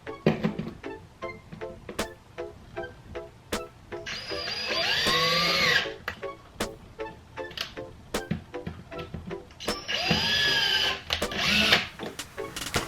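A power drill drives anchoring screws into a basement wall in two sustained whirring bursts between rapid ticking and tapping, close and fairly loud.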